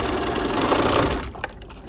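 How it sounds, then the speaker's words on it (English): A sewing machine stitches a dart through to the end in a quick, steady whirring run, then stops, leaving a few faint clicks and handling noises. "and then we're gonna sew to the end."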